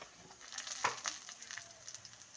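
Onions and red chilli frying in a pan for a potato curry, a steady soft sizzle with faint crackles and a couple of stirring scrapes, close and fairly quiet throughout.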